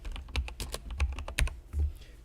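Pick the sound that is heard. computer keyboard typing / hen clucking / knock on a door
computer keyboard typing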